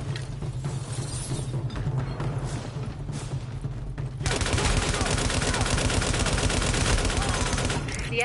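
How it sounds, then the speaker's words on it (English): Heavy gunfire rains down from a rooftop in The Division video game, dense rapid automatic bursts that swell louder midway and continue relentlessly, with faint talk underneath. "The escort party's taking heavy fire from the roof"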